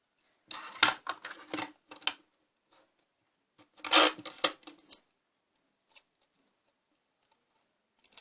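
Scissors snip through paper while cutting away the weak top part of a DIY paper spinning target: clusters of short, crisp clicks and cuts in two bursts, with a few isolated snips afterward in a quiet room.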